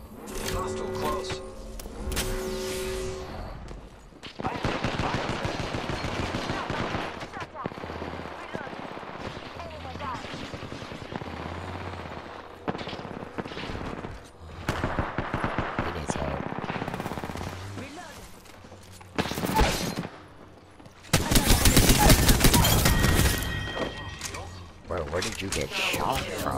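Rapid automatic gunfire in a close-range Apex Legends firefight, bursts of shots running almost without break, with a loud heavy volley near the end, people talking under it.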